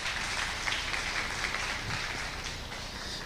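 Soft, steady applause from a church congregation at an apostolic and prophetic service, a dense distant patter of many hands that stays even and quiet throughout, with no voices over it.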